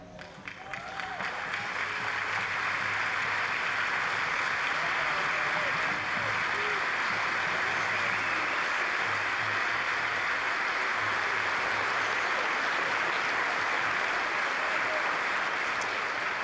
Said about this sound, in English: Stop applauding this asshole.